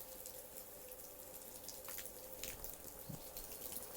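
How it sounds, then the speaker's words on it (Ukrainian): Faint water running steadily from a tap, with a few small clinks and knocks in the background. "Вода потекла, робить"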